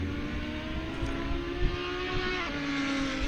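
A Porsche GT4 race car engine in a sim racing game at Tor Poznan, a steady sustained engine drone with a brief rise in pitch partway through, no voices.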